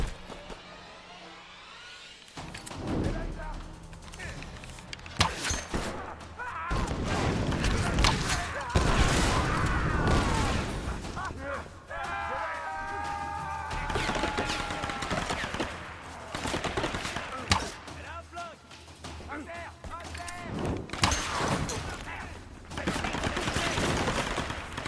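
Gunfire in the video game Tomb Raider (2013): bursts of rapid shots and louder single blasts over game music and ambience, with brief shouted voices in between.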